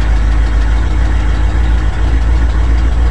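A cold-started Ford FE V8 idles steadily on choke, a loud, continuous low rumble with no talk over it.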